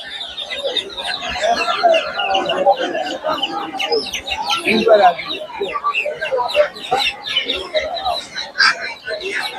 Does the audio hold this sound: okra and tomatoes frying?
no